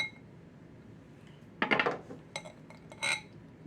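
Scooping natural peanut butter from a jar for granola bars, with a few close clinks and scrapes of a utensil against the container, arriving in short separate bursts against a quiet background.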